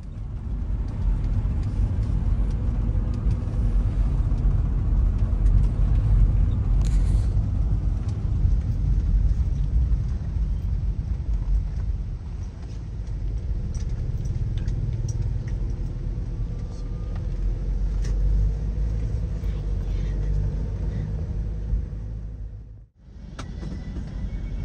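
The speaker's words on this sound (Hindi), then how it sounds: "लगभग 150 किलोमीटर अभी मैं ये सफ़र तय करूंगा इस वैन से" A passenger van travels a road in Cambodia, its engine and tyre rumble loud and steady from inside the cabin, with a brief dropout near the end and no talk.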